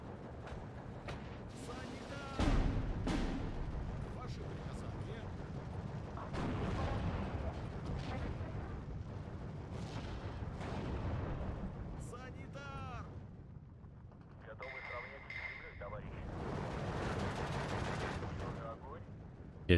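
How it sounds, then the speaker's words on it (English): Mortar barrages in the Steel Division 2 World War II strategy game, with repeated booming impacts and crackling gunfire in the distance, and layered battle noise that surges and fades. "The mortars are definitely helping"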